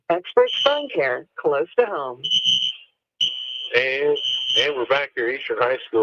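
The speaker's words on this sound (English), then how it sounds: "I apologize if you can hear the fire alarm going off." A high-school gym fire alarm blares in loud repeated electronic tones during a girls' basketball broadcast. A commentator keeps talking over it, with a short break in the talk where the alarm stands out alone.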